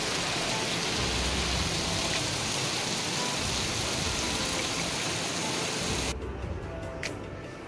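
A downpour of heavy rain rushes as a constant broadband wash for about six seconds, then drops abruptly to a quieter, thinner patter near the end.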